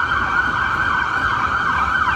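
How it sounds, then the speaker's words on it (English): An ambulance siren wails steadily and loudly throughout, its pitch sweeping up and down in a continuous cycle. "Hear that? Somebody's hurt. Can you see the ambulance?"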